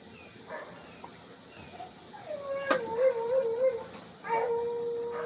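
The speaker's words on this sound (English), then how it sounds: "Let me mute and take care of these dogs a minute." Dogs on a porch whine and let out high, drawn-out whimpers and howl-like cries, several rising calls over a quiet background, fairly close.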